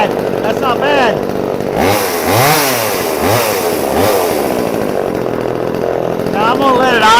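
A brand-new VEVOR 12-inch clone chainsaw idles loud and close, its engine chugging steadily throughout with a rough, uneven throb.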